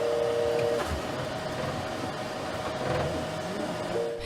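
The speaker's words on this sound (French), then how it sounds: "Autre avancée technologique, l'imprimante 3D." A 3D printer runs in a workshop, giving a steady mechanical whir with sustained tonal motor whines that shift pitch as the print head moves, close and continuous with no talk.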